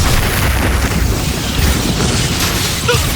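A Confringo fire spell blasts in Hogwarts Legacy, a loud, dense boom of explosive rumble that fills the whole moment.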